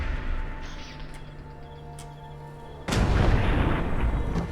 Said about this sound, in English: I mean, the explosion's really cool.